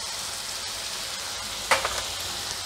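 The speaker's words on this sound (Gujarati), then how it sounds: "હવે આપણે હળદર નાખી દઈશું" Turmeric goes into a pan of ridge gourd curry, with a steady, even sizzle of frying throughout and a brief soft clatter of stirring near the end.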